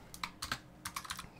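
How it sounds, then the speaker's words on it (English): Someone types the ping command on a computer keyboard, giving a short burst of quiet, close keystrokes in two quick clusters, with no talk. "Then I want you to type in ping"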